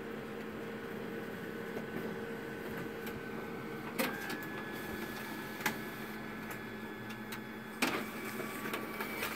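Konica Minolta Bizhub C224e office copier running with a steady mechanical whir and faint tones, punctuated by a few sharp clicks and clunks of its feeder and rollers, fairly quiet and close with no talking.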